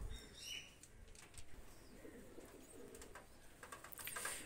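Oman teddy pigeons, a running pair, coo softly in a loft amid faint wing flaps and chirps from other birds, a low steady murmur without talk.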